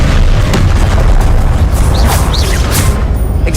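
Confringo, the explosive spell in Hogwarts Legacy, detonates in a sustained, loud booming blast of rumbling explosions for several seconds, with sharp whistling streaks and bursts popping over the heavy low roar.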